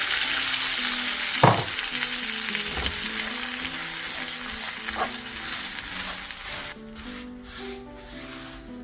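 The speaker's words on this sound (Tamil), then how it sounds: "வறுத்து வச்சிருக்கிற எள்ளை போட்டு மிக்ஸ் பண்ணணும்" Steady sizzling from a hot pan as roasted sesame seeds are stirred into melted sugar, with occasional scrapes and clicks of a spoon, close and moderately loud.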